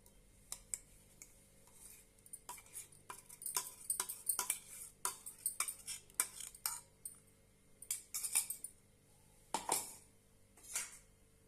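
A metal spoon stirring spinach paste into dosa batter, clinking and tapping against the bowl in quick irregular bursts, close and fairly quiet, with a soft wet mixing sound between strikes.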